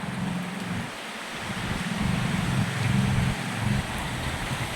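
Steady rain falls during a Gujarat monsoon spell, a dense continuous hiss with low rumbling underneath, heard close up and unbroken throughout with no voices.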